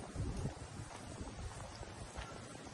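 Wind blows outdoors on a walk home from school, buffeting the microphone with a low, faint, gusty rumble and soft rustling.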